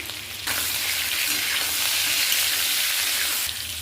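Potatoes for aloo dum fry in a pan, a loud, close hiss of sizzling oil that swells suddenly and holds steady before easing back near the end.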